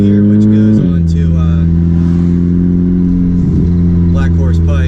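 A car running a JB4 tune drives along a road, its engine holding a steady, loud harmonic drone that steps down once as it shifts, with some voices heard over it.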